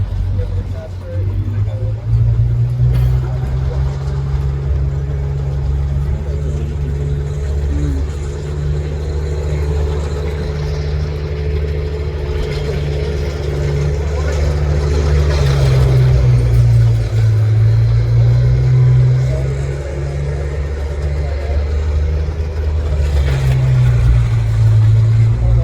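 A Tiger tank from the French Tank Museum at Saumur rumbles in the Tankfest arena, its deep, steady engine drone swelling and easing over about twenty-five seconds, with an announcer talking throughout over the PA.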